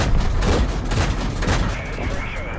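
Tank cannon fire and heavy explosions from World of Tanks boom in quick succession, loud and rumbling, with a deep low-end roar filling the short burst.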